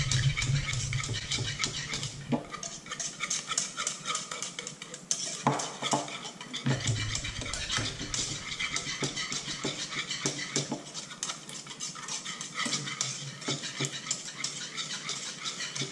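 Thick, pudding-like pastry cream for crepes being stirred in a bowl, a steady run of close scraping and clinking strokes with no talking.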